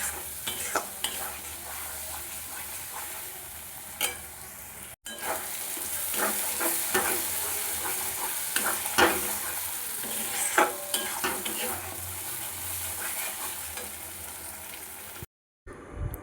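Spice paste with cashews sautéed in a pan for egg biryani, sticking as it cooks. The frying sizzles and hisses steadily under irregular stirring scrapes and knocks, close up and without speech.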